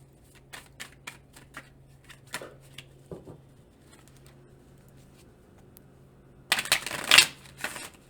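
Tarot cards are tapped and riffled in short scattered bursts, then a brisk, louder shuffle near the end; close and quiet otherwise, no talking.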